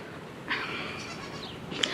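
Goats on a small breeding farm bleat once or twice, a harsh wavering cry rising out of steady outdoor background noise.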